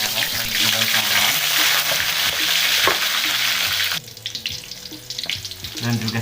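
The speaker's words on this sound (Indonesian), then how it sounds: "Sekarang akan tumis dulu. Ini untuk bawang putih, bawang merah, dan juga salam." Garlic, shallots and bay leaves sautéing in hot oil for nasi liwet: loud, close sizzling and frying with stirring, easing into quieter crackles and scraping partway through.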